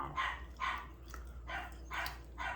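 A puppy barks in a run of five or six short, yappy barks at a steady rhythm, close by and fairly loud, with no talking over them.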